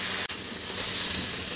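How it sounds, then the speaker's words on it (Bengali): Potatoes sizzling in hot oil in a pan, a constant close hiss and crackle with one brief dip near the start. "আলুগুলা 3-4 মিনিট ভেজে"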